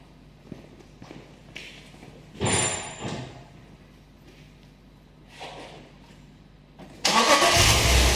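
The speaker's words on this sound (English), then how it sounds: "Let's press record and start up the car." A car engine cranks and fires up, loud and close, after several seconds of quiet shuffling and a few brief clicks; the engine is fitted with a known good number 5 ignition coil under test.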